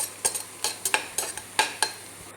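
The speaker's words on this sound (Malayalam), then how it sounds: "അങ്ങനെ ഇഞ്ചി എണ്ണയിലിട്ട് വറുത്ത് കോരാം" Ginger sizzles in hot oil while a utensil scrapes and stirs in sharp, regular bursts about every half second, close by.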